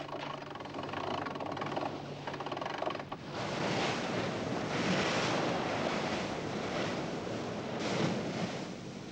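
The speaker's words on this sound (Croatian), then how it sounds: "pa nas vjetar i valovi stalno u pramac tuku kao na otvorenom moru" Wind and waves strike the bow of a sailboat in icy Tierra del Fuego waters, a continuous rushing roar of surf and gusting wind with a brief thump near the start and no voices.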